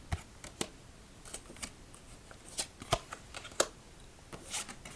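Quiet, close clicks and soft snaps of playing cards being shuffled and handled, irregular taps scattered over a few seconds.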